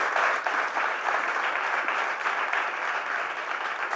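Applause for the mayor of Coín at a business forum, a dense, sustained crowd clapping filling the hall at close range.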